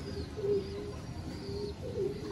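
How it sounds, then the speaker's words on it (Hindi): A Parel pigeon coos in soft, repeated low calls, close and steady, with faint background hum. "तो परेल कबूतर है ये"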